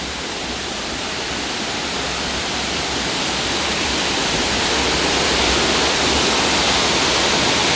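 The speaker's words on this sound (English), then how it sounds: "You can definitely see the force of the water here" Loud, constant roar of Lampi Waterfall in Khao Lak, Thailand, swollen in the rainy season, a dense wall of crashing water with no pauses.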